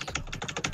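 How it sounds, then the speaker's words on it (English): Rapid jitter clicking on a computer mouse during a game, a fast, even burst of sharp clicks close up with no voices. "we're jitter clicking so quick"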